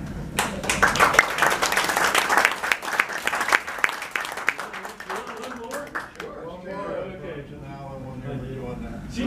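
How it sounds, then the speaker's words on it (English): Audience applause follows a clown skit at a theatre group show, a dense burst of clapping from a crowd that rises quickly, holds for several seconds, then thins and fades as talk continues. "If you get enough applause."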